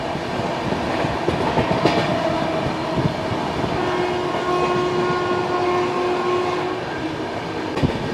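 The Howrah Rajdhani Express races along at high speed, a loud continuous rumble of wheels and carriages with faint tonal horn notes sustained through the passage, heard from on board near the door.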